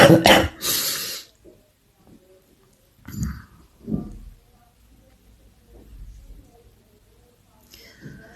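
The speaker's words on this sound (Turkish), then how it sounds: "Bu arada her an öksürebilirim." A woman doing her makeup, whose lungs feel congested, coughs several times close to the mic. Harsh bursts come at the start, then softer coughs and throat sounds follow, with quiet breathy noise between them.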